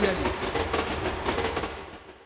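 A person imitates a passing train, producing a steady rumbling, rhythmic chugging noise up close that gradually fades toward the end.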